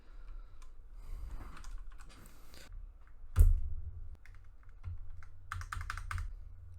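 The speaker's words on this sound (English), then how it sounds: "Let's put the other keys back in." Keycaps being pressed back onto a Ducky One2 RGB mechanical keyboard with Cherry MX Speed Silver switches, heard as scattered plastic clicks and snaps, with one sharp louder snap midway and a quick cluster of clicks near the end, with no talking.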